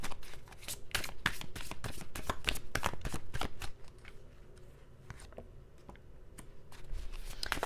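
Tarot cards being shuffled by hand at close range: a dense run of crisp riffling snaps and flicks, steady for a few seconds and then sparser, softer handling, with no voices.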